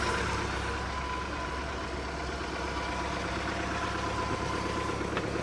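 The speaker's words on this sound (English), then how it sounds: "I just love the sound of an engine running." A Mercruiser boat engine idles steadily with a low, even rumble and a constant hum, running alone without talk during winterizing.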